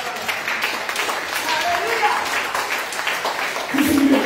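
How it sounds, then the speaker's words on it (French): Congregation applauding during a church service, steady clapping from many people blended with voices and singing, growing slightly louder near the end. "applaudis le Seigneur"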